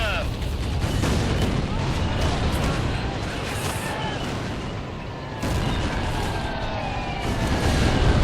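Bombs dropped by bombers explode in the World War II strategy game Blitzkrieg 2, a dense and continuous roar of blasts and rumbling battle noise that stays loud throughout.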